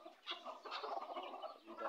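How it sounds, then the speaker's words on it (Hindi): Chukar partridges calling, a quick run of soft clucking and chattering notes, faint and fairly close, with no talk over them. "चकोर"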